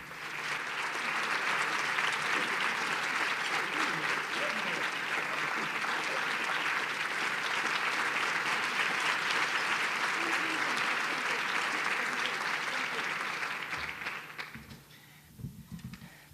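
An audience applauds to welcome an award recipient: dense, sustained clapping fills the room for about fourteen seconds, then thins and dies away.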